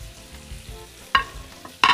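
Chopped vegetables for a chickpea stew hit a pan on maximum heat, giving a low rumbling sizzle that flares into two loud bursts of crackle near the end.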